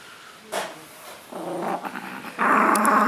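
A dog growls in low, rumbling bursts that grow louder and more sustained toward the end, close by with no talking.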